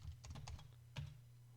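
A password is typed on a computer keyboard in a quick run of soft key clicks followed by one firmer tap, faint and close over a steady low hum.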